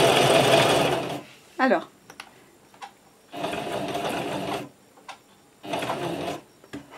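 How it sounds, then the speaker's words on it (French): A sewing machine stitches a zipper in three loud close bursts of rapid whirring, separated by pauses in which a voice speaks briefly and small clicks are heard. "Et maintenant, j'ai plus qu'à coudre sur toute la longueur."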